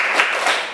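Brief burst of a classroom clapping chant of the thumb-clap kind, a short dense patter of many small claps close by, with no voices.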